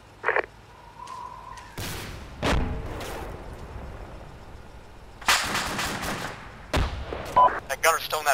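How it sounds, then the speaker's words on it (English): Gunfire in the military shooter Arma 2 during a firefight with an enemy vehicle gunner: a few sharp, loud bursts and cracks separated by quieter stretches, with a brief tone and some small clicks in between. "He's firing on my position right now."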